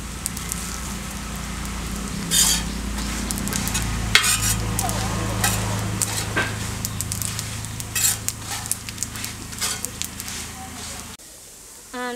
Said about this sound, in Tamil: சீரகம் போட்டு அதோட வறுக்கிறது.